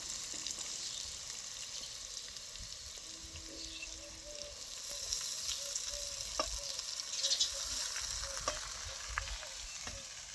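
Poha is stirred in a pan over a soft, steady sizzle, with faint scrapes and light knocks of the spoon at a low, close level.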